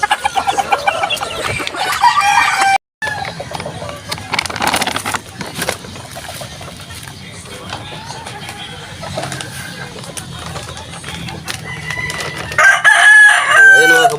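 Roosters crow repeatedly amid steady clucking from a flock of chickens, loud and close, with a brief silent gap early on and another crow near the end.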